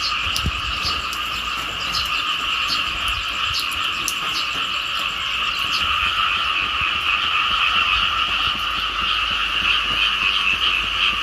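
Dense chorus of frogs croaking steadily in a dark rural field after rain, a continuous loud layered din with overlapping calls throughout, no voices.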